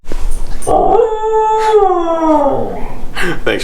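A pet dog lets out a single long, wavering howl that rises and then slides down, loud and close, with a short yip or bark before it and a brief noise burst after.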